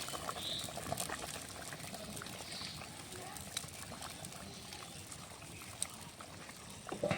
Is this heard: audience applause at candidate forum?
no